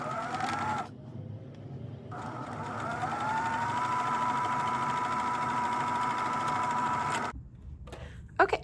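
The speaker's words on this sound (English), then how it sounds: "we're gonna start with just stitching down and make sure to back tack at the beginning and end to secure the edges." A sewing machine hums steadily for several seconds while stitching down the edge of a silk bias strip for a scrunchie, pausing briefly near the start and stopping toward the end, close and fairly loud.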